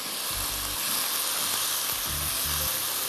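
Chicken thigh sautés with ginger and garlic for cashew chicken, producing a loud, continuous sizzle that stays close and even throughout, with faint low thumps underneath.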